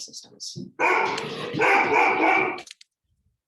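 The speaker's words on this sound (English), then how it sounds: "That's the dog barking." A dog barks loudly and repeatedly close by, a burst of rough barks lasting about two seconds, with a person speaking briefly just before.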